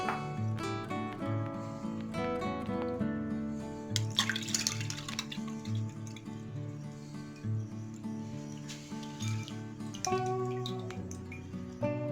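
Water drips and trickles from soaked lentils being strained for namkeen bhallay, a soft, irregular patter of drops heard close and faint against a quiet background.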